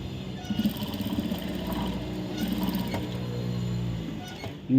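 A sewing machine stitches a blouse, running steadily with a low mechanical hum and faint ticking throughout, fairly close and without pauses.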